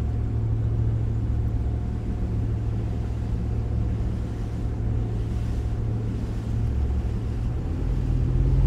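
A 2008 Supreme V220 22-foot direct-drive boat drones steadily on the water, its engine a loud, deep, constant rumble with a low hum beneath the wash, heard from on board with no talk.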